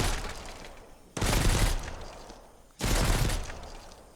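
Gunfire in the Mist Survival video game comes as two loud, close bursts of rapid shots about a second and a half apart, each trailing off into a rumbling tail, with no speech.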